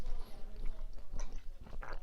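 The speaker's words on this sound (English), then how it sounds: "Us chewing and making all this horrible noise." People chewing crocodile jerky with a smoky flavour, wet biting and crunching up close, with irregular mouth noises and no talk.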